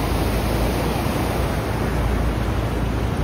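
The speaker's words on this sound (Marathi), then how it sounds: "आता खवळले पाणी" Rough, swollen river water rushes along in a steady broadband roar a few days after a flood near Metke village, loud and continuous with no voices over it.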